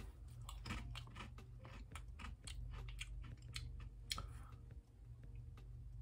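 Lay's Wavy Carnitas Street Tacos potato chips are crunched close up, a quiet series of crisp bites and chewing over a low background hum, with no talking.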